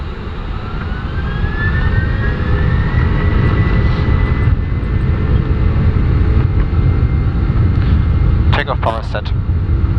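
Airbus A310 jet engines of a German Air Force aircraft spooling up to takeoff power, a loud constant roar heard from the cockpit with a rising whine, and brief radio chatter near the end.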